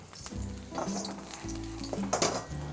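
Shiitake mushrooms sizzle as they are stir-fried in a pan with broccoli, black fungus and carrot for a vegetarian dish, a close, lively crackle with stirring scrapes and clinks of the spatula.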